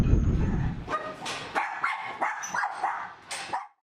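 Dogs at an animal rescue shelter bark and yip in a string of sharp, close calls, with a dull rumble under the first second before the barking takes over.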